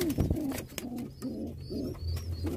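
Pigeon squabs cooing inside a loft, a run of soft, low, rounded coos repeating in a steady rhythm at close range, with faint chirps above.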